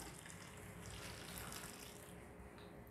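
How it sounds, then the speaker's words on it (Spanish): Boiled water pours steadily over washed yuyo seaweed in a kitchen, a continuous close splashing rush with no talk. "yo le echo agua hervida"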